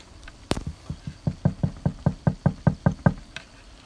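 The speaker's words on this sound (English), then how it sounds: "let me just knock on the door and see who's in." Knuckles rap on a front door at Halloween: one sharp hit, then a steady run of about a dozen even, fairly loud knocks with no talk.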